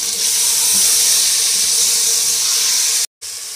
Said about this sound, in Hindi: और अब इसके साथ ही मैं इसमें चिकन डाल के फ्राई करूँगी